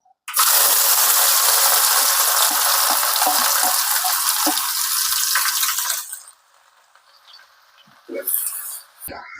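About 150 grams of ginger drops into hot oil for a dried shark pickle, setting off a loud, dense sizzle that runs steadily for six seconds before dying down to a quiet crackle with a brief flare near the end.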